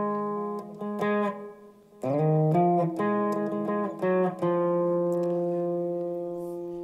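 Lead guitar line from a song, IBC version, picked note by note on single strings, a clear melodic run of plucked notes with ringing sustain, played alone without talk.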